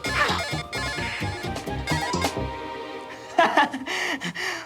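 A mobile phone ringtone plays a bright, repeating melodic pattern, loud and close, then shifts to a different tonal phrase near the end.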